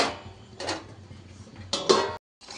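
A lid set onto a cooking pot of simmering potato curry, a few close metallic clanks and scrapes of metal on metal, the last one the loudest, then sudden silence.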